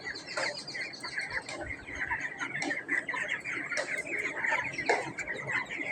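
Chickens cluck in a poultry shed during extreme heat with fans running, a busy overlapping chorus of moderate, fairly close calls against a steady background hum.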